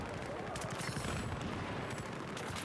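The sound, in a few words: gunfire in Battlefield 4 video game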